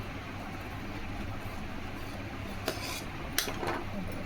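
Scissors snip through lining fabric while cutting the princess-cut front panel of a size 38 blouse: two or three short, faint metallic snips near the end over a steady low room hum.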